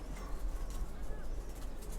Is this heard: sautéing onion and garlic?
no